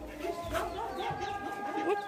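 Chickens cluck softly nearby in a household yard, a string of short murmuring clucks and squawks over a low background hum.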